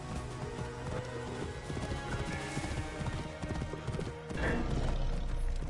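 A horse gallops in the video game Assassin's Creed, a continuous rapid clip-clop of hooves under a busy game soundscape.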